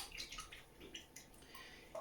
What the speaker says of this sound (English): So what we're going to do next is put our brush in water. We're going to actually give it a rinse.